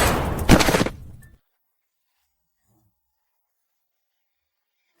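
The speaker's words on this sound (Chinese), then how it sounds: "刚才2声枪响" Two gunshots ring out in an animated mystery drama, a loud close burst in the first second that cuts off abruptly into silence.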